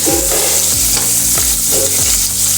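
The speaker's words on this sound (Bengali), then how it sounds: "ভালোভাবে পেঁয়াজগুলোকে ব্রাউন করে ভেজে নিতে হবে।" Onions frying in fish oil for a Bengali rohu kalia, a steady loud sizzle with a spoon stirring and scraping the pan at regular intervals, no voices.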